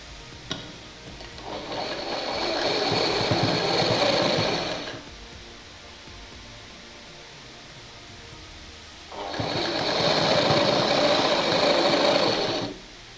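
A sewing machine stitches along the edge of a newborn baby's cap-sleeve dress in two steady whirring runs of a few seconds each, separated by a quiet pause.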